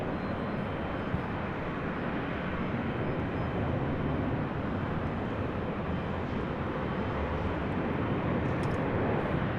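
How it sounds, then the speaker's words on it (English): A Delta Airlines A321 arriving from Minneapolis lands at LAX, a steady broadband jet roar heard from a distance that holds at an even level throughout. "This is Delta Airlines 831 coming in from Minneapolis on an A321."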